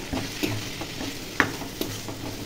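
Ginger-garlic paste with turmeric, cumin and chilli powder sizzles in hot oil in a pan, with soft scraping stirs and a few light clinks of a spatula against the metal, close and moderately quiet, with no talk.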